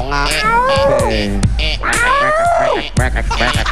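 A cat meows loudly and insistently at close range, a series of drawn-out, wavering angry cries with brief gaps between them.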